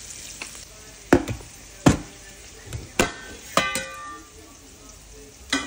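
Chopped onion fries in a pan with salt. A faint background sizzle runs underneath, broken by about half a dozen sharp knocks and clatters of a utensil against the pan, with no one speaking.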